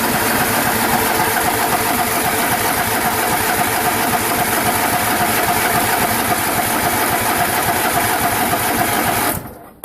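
A John Deere 210 lawn tractor engine is started cold, running with a loud, rapid, steady mechanical chatter close by for nearly ten seconds before cutting out abruptly.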